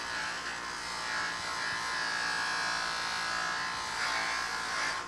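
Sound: buffing wheel polishing motorcycle chrome

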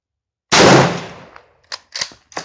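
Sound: M1916 Spanish Mauser rifle shot, 7.62x51 NATO

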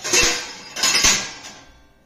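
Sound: dishes being handled after dishwasher wash

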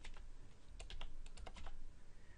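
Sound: typing code on a computer keyboard

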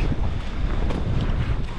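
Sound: strong wind gusts

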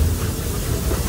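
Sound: Walt Disney World Railroad train at Main Street Station

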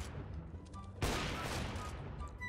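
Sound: gunfire in the video game CS:GO

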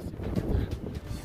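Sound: strong wind

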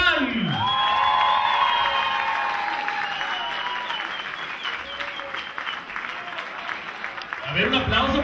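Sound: audience applause and cheering for a singer

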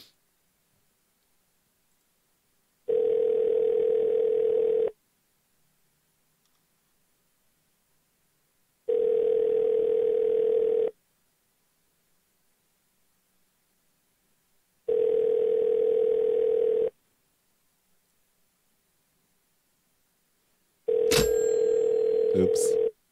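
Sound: telephone call ringing out unanswered

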